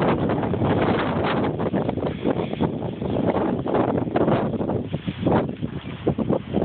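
Strong, gusty wind from a winter snowstorm in Minneapolis buffets the microphone in a steady, loud roar that surges and dips for several seconds, with no voices.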